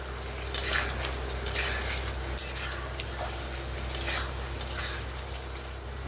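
Fried eggs and potatoes are stirred with spices in a pan for a homestyle egg curry, a low sizzle with repeated scraping strokes of a spoon against the pan.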